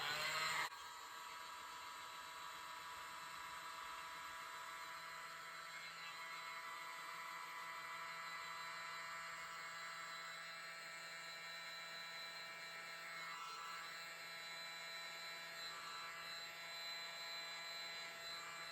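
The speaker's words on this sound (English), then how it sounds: "I'll use my mini blower without the attachment." A small handheld mini blower used without its nozzle attachment, blowing across poured fluid acrylic paint, a steady close whirring airflow that starts abruptly and runs continuously at an even level.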